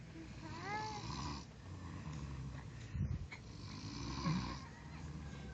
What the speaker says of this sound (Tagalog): Hindi ko alam kung mabuti bang humihilik si Daddy o hindi